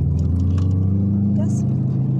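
Race car engine pulling hard on the Tor Kraków circuit, a steady loud drone with rising pitch under intermittent speech in the cabin.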